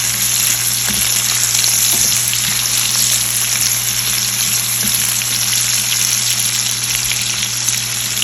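Chopped onions with green chillies, cashews and red chillies sizzle steadily in a pan for butter paneer masala, a constant close frying hiss with occasional soft stirring.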